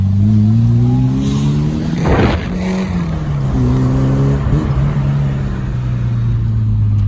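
A Peugeot 309 GTI engine revs loudly nearby, the pitch climbing and falling through several throttle blips before settling into a steady roar.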